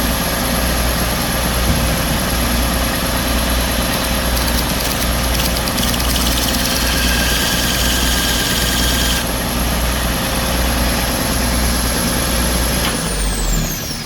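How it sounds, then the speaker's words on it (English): An electric sander grinds and sharpens a steel edge in a workshop, making a loud, unbroken hiss and whir that holds steady throughout and shifts tone slightly partway through. "So I'm going to turn the sander on"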